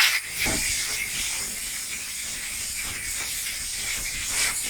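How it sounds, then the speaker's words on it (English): High-pressure rinse at a car wash spraying hot car paint, giving a loud, steady, close hiss of water jets that fluctuates slightly as the spray moves. "So we're gonna start off with a high pressure rinse."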